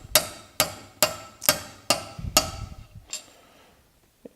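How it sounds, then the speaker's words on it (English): A small ball peen hammer taps metal seven times at a steady pace, sharp ringing strikes that grow softer toward the end, during a Honda 3.5-liter EGR valve replacement. "I'm going to take a small ball peen hammer and gently continue to drive it in"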